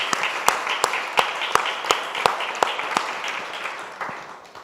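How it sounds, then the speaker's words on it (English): An audience at a conference session on climate action for Small Island Developing States applauds a panel: a moderate, steady round of clapping, with a few sharp claps standing out, gradually tapering off, with no talk over it. "I would like to invite everybody to give the panel a hand of applause."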